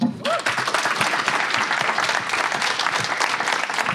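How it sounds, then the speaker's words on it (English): A crowd at a startup pitch event applauds a founder with steady, dense clapping that carries on throughout the clip. "Give him a big round of applause."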